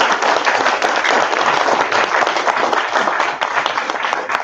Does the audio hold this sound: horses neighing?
no